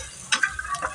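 Ginger and garlic hit a hot pan for paneer butter masala, giving a quiet, brief sizzle with a few sharp stirring clicks.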